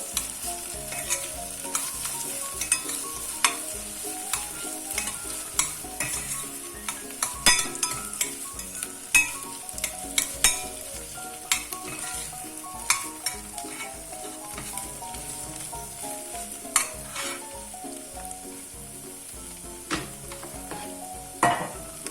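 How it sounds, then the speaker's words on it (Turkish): Steady sizzling of onions frying with tomato paste in a pan, with frequent scraping and clinking as a utensil stirs, continuous and close throughout. "Salçayla da soğanları kavurmaya devam ediyorum."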